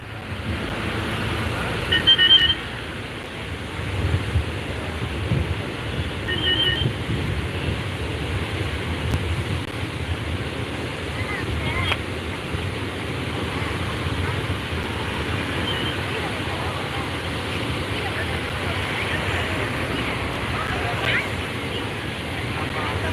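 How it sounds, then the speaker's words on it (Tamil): Roaring river water rushes over the Thamaraipakkam check dam on the Kosasthalaiyar river, a steady broadband surge with faint voices of bathers mixed in throughout. "கொசஸ்தலை ஆற்றில் ஆர்ப்பரித்து ஓடும் இந்த தண்ணீரில்"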